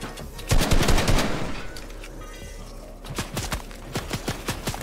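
Fortnite gunfire rattles in loud, rapid automatic bursts, first as a dense volley and then as a string of separate sharp shots.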